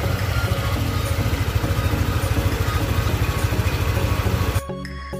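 A Honda ADV 150 or Yamaha Aerox 155 scooter engine idles with a steady, even low rumble, close and continuous, then cuts off abruptly near the end.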